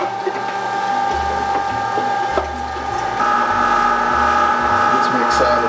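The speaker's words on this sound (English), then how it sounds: "Do the coarse grind now." An electric meat grinder coarse-grinds wild turkey for bratwurst, giving a loud, steady mechanical whir with a low motor hum that pulses irregularly as the meat feeds through. It is close and continuous throughout.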